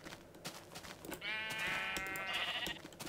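A single sheep bleats in the Minecraft video game, one wavering nasal bleat of about a second and a half, fairly quiet over faint background clicks and game noise.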